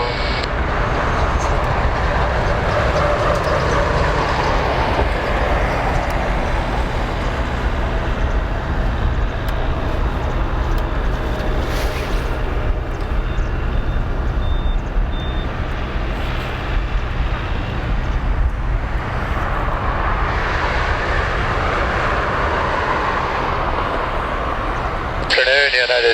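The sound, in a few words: China Airlines Boeing 777-36N(ER) taking off from Narita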